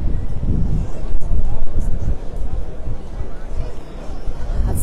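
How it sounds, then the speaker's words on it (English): Strong wind gusts buffet the microphone in a Vienna city street near the Graben at Christmastime, a loud low roaring rush with faint crowd murmur behind it. "Wow, so windy here."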